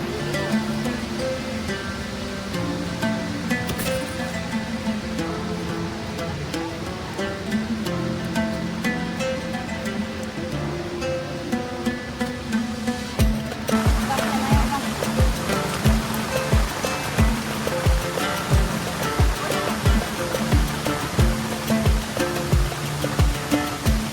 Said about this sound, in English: Such a big, huge, amazing waterfall.